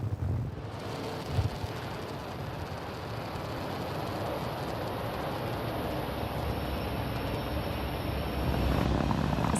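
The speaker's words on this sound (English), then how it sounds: "Successful liftoff for Falcon 9 from pad 39A" A Falcon 9 lifts off from pad 39A at Kennedy Space Center, its engines a broad, distant roar and rumble, crackling and swelling slightly as it climbs, with wind buffeting the microphone.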